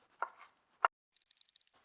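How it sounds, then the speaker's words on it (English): A kitchen knife rocks through nuts on a cutting board while making banana nut pancakes: a couple of soft taps, then a quick run of about eight crisp clicks, faint and close with no talk. "work the knife through it in that rocking, wrangling motion."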